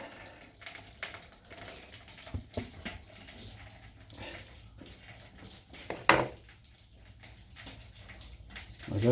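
Fluid drains from a Honda GX110 engine with a faint, uneven trickle and splatter into a container, along with a few light knocks and handling noises close by.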